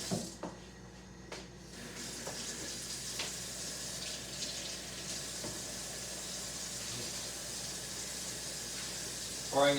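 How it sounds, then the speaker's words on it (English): Warm water runs from a kitchen sink tap in a food studio, giving a steady, soft splashing hiss that begins after a short pause and continues at an even level. "I'm just going to get some warm water going here."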